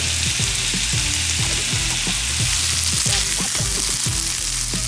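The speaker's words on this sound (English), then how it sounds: "Now let's add in all my rice, a little bit of garlic and ginger, a little bit of sesame oil, a little bit of soy sauce" Rice fries in a hot pan with garlic, ginger, sesame oil and soy sauce for a Peruvian bacon fried chaufa, giving a steady loud sizzle punctuated by rhythmic scraping stirs and clinks.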